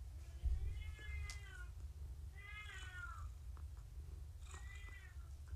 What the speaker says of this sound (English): out there meowing up a storm